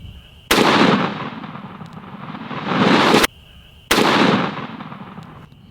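Three loud, sharp blasts from a shotgun firing 3-inch turkey loads at a target 20 yards away outdoors, each with a booming decay and short gaps between shots.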